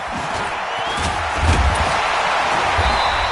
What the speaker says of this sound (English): in front of a raucous crowd, this one is underway.